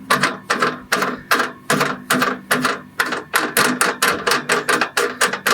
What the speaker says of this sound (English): So next what I want to do is tighten these little feet.